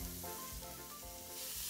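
Butter, garlic, celery and onions sizzle in a pan while being softened for a snook and stone crab dish, a steady close frying hiss with low stirring thumps and faint music-like tonal layers underneath.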